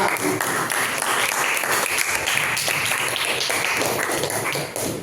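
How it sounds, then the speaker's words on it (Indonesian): Classroom applause for a student discussion group, many hands clapping steadily and densely throughout, fairly loud and close with a faint murmur of voices underneath. "Tepuk tangan buat kelompok 2"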